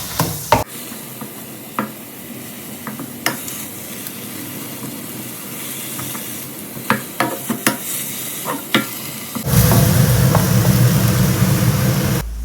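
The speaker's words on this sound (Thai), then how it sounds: "แล้วก็เอาหมูลงไปนะคะ ใส่น้ำในกระทะนิดหน่อย เดี๋ยวเราจะรวนหมูให้สุกก่อ" Minced pork stir-fried in a pan with a little water, with steady sizzling and scraping stirs in short repeated strokes, swelling to a louder, fuller sizzle near the end.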